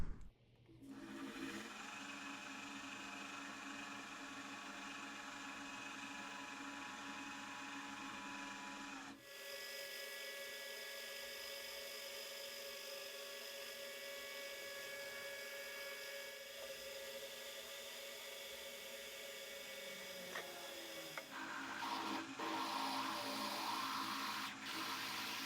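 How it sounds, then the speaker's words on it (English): A drill bit bores into metal on a lathe in a home workshop, giving a continuous grinding, whining machine tone that shifts pitch partway through and runs for the full length without talk. "I'll give that drill a bit of a sharpen before I do the next one by the feels of that."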